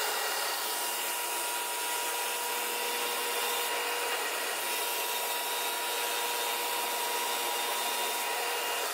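A Flatmaster sander makes steady passes along a wood board being flattened like a jointer would, giving a continuous close abrasive whir and rasp with a faint hum, unbroken for the whole stretch and without any talk.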